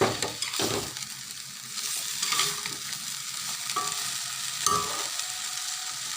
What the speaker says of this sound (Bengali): এখন নেড়ে চেড়ে নিয়ে আলুগুলো দিয়ে দেবো